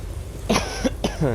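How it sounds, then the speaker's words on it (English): A few rough coughs close up, two or three harsh bursts in quick succession with a throat-clearing quality. "Sorry about my coughing."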